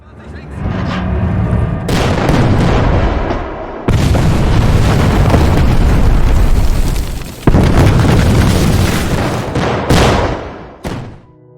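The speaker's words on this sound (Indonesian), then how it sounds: "Sekarang serangan artileri jauh lebih banyak dari sebelumnya." Artillery bombardment in a war film about Soviet troops facing German tanks: loud, sustained rumbling explosions in long dense bursts with abrupt cuts between them, a narrator's voice running underneath.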